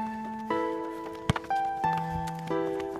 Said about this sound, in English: You can hear the Buddhist monks singing